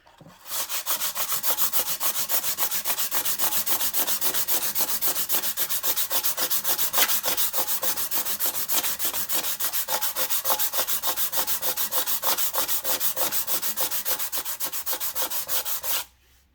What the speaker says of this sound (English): Now I'm trying to sand in one direction, or generally in one direction, because this will leave some sanding marks